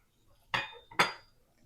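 A utensil flips bagels in a pan, producing two sharp metallic clinks about half a second apart. Each one is close and bright, with a short ringing decay and near silence between.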